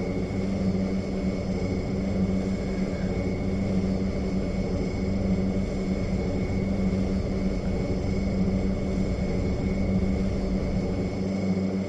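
Steady, loud propeller airplane engine drone with a constant low rumble and a sustained tonal whine, heard from inside or close by as the aircraft prepares for takeoff, with no talking.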